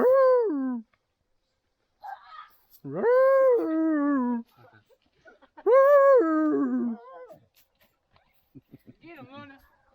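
A dog gives long, whining, howl-like vocalizations in three drawn-out bursts with gaps of silence, close and clear, at a house under construction.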